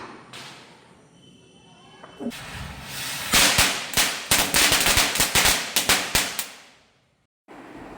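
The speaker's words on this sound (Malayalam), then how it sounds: "അപ്പോൾ ദീപാവലിക്ക് മോൻ പടക്കം പൊട്ടിക്കലൊക്കെ തുടങ്ങി." Diwali firecrackers go off in Odisha as a rapid string of sharp cracks, a dozen or more loud pops in an uneven burst, close by, after a quieter lead-in and followed by a sudden hush.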